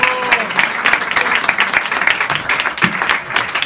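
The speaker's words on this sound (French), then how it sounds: "Paul Bureau, sous l'applaudissement." A crowd at an 85th birthday celebration bursts into loud, dense clapping that continues steadily, with faint voices mixed in.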